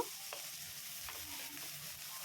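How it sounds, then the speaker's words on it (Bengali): Chopped carrots stir-fry with ginger in a pan, giving a soft, continuous sizzle with faint scraping of a spatula for a couple of seconds. "গাজরগুলোকে নাড়াচাড়া করে আমি ভাজা ভাজা করে নেব"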